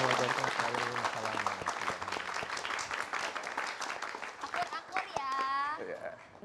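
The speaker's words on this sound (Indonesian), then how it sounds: "Tepuk tangan boleh." An audience breaks into sustained clapping and cheering on a talk show, dense and lively for several seconds before tapering off, with a voice talking through it near the end.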